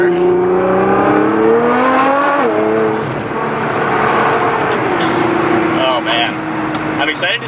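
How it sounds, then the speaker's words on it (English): Nissan GT-R on 315-wide tires accelerating hard from the cabin, engine tone climbing through gear shifts with brief dips, loud and close, while someone talks over it. "All right, last acceleration with these tires."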